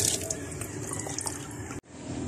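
Water runs and splashes steadily from a tap as a Vanda Mokara orchid is rinsed clean of brushed-off scale insects, a close, continuous wash that cuts off abruptly near the end before resuming.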